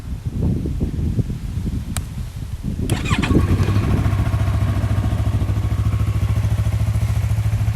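A 2016 Yamaha R3 310cc sport motorcycle with an Akrapovic aftermarket exhaust cranks briefly, fires up and settles into a steady, loud idle close by.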